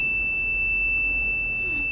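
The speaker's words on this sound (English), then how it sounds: "Here the LED indication and alert message and buzzer gets switched on." A combustible gas detector's buzzer alarm sounds a loud, steady, piercing electronic tone that holds unbroken and close up for two seconds, with no voices.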